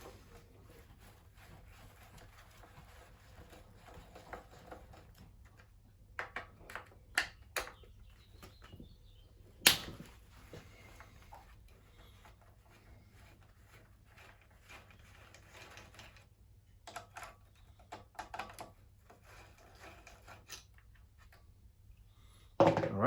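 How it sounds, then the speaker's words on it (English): Screws being removed from the gear case of a hedge trimmer, heard as scattered faint ratcheting clicks and short metallic ticks over a quiet hum, with a few sharper taps near the end. "Now it's just a matter of removing these two screws."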